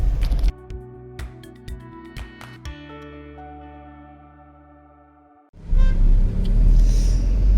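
A Suzuki Jimny starting a road trip: a few clicks and tonal electronic chimes fade out, then the engine and road rumble come in loud and steady as the vehicle drives on.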